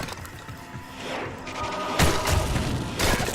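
Rapid weapon swings of the Zeal attack in Diablo 2 Resurrected, with mechanical clanks and heavy thuds repeating in quick succession, and two louder impacts standing out near the end.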